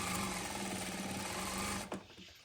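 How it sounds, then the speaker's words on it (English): A sewing machine runs steadily and close up while stitching binding onto a quilt, with a fast even mechanical chatter that stops abruptly near the end. "I'm going to needle down, pivot on that corner, rotate my quilt and sew along the next side"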